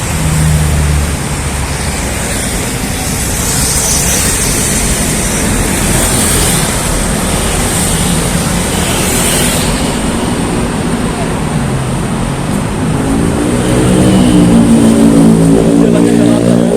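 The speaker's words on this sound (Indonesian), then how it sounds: "Ini ada bus." A bus and other traffic pass on an uneven asphalt city road near Tebet, Jakarta, a continuous loud engine rumble and tyre roar that swells toward the end, with someone talking over it.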